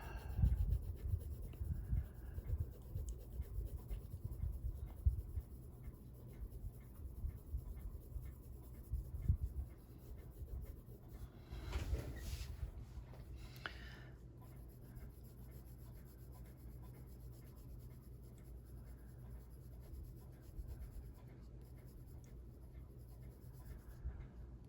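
A Prismacolor colored pencil scratches and rubs across paper in continuous soft strokes, a faint, close, low rasp with slight variations in pace throughout.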